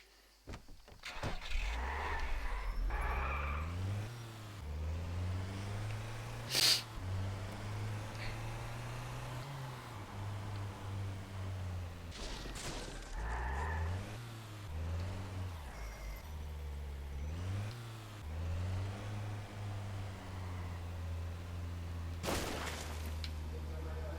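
In Just Cause 2, a stolen car drives and revs repeatedly, its engine climbing and dropping in pitch over a steady drone, with a few sharp impacts along the way.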